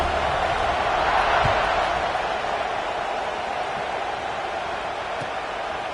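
A football stadium crowd roars steadily after a scoring drive, a broad sustained wash of cheering that swells slightly early then holds at a constant, dense level from a distance, with no clear individual voices.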